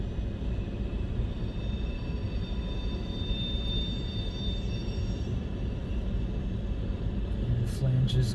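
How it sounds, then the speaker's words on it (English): CN freight train moving through a curve on the north wye at Ladysmith, Wisconsin, a steady heavy rolling rumble with faint high-pitched flange squeal drawn out over several seconds. "And the flange is groaning on the north Y."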